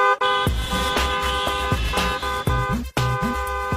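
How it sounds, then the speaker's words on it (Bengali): A motor vehicle horn blares in loud, repeated toots, several bursts with short gaps between them, close and dominating everything else. "এই যে আপনি এতক্ষণ হর্ন দিলেন"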